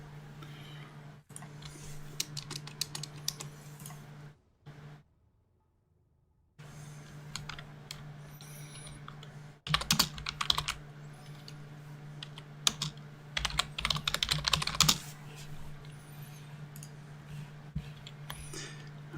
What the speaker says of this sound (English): Oh, sorry for the typing was loud.